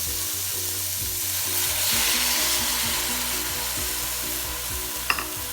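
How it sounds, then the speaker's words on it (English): Vegetables stir-frying for chicken fried rice, a loud continuous sizzle with steady rhythmic tossing and stirring in the pan, ending with a sharp utensil clink. "Now it's time to add the remaining vegetables into it."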